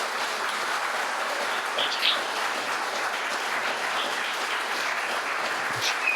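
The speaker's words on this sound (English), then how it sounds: "χειροκροτήστε με την καρδιά σας" Applause from an audience at a Cyprus Week flag-raising event at Theatro Technis, a dense steady wash of clapping holding at one level throughout, with a few faint chirps on top.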